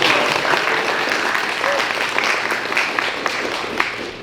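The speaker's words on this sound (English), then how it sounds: "A little round of applause." A small crowd at a youth climate action holiday party gives a short round of applause, steady scattered clapping filling the room with faint murmuring underneath.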